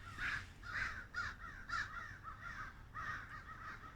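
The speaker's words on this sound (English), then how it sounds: "Crows everywhere." Crows caw repeatedly at an abandoned asylum in a steady series of harsh calls, fairly close, with a few short pauses between bursts.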